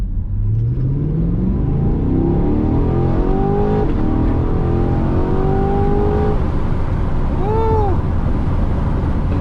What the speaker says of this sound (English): I can accelerate and just dip into the turn.